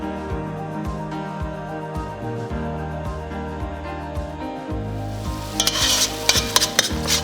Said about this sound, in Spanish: voy a dejarlo freír por unos minutos más